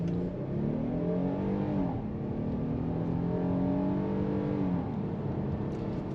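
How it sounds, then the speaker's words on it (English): A 2023 Kia Telluride EX X-Line mid-size SUV accelerating on a residential road, its engine droning steadily with rising and falling gear-change sweeps, heard from inside the cabin at a constant moderate level. "I'm gonna stop this vehicle right here and try the acceleration really quick."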